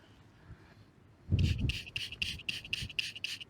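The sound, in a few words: spraying and rubbing clean a hammered coin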